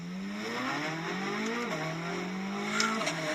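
A 2023 Corvette C8 Z06 accelerates hard under heavy throttle, its engine note climbing in a steady rising pitch, dipping at a shift and climbing again, loud and close with no talk.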